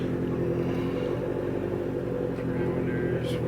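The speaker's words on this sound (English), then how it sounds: "it's already revving way better" A turbocharged Honda Civic engine with VTEC drones steadily at high revs, a constant buzzing hum with faint clatter, and a voice speaks briefly over it.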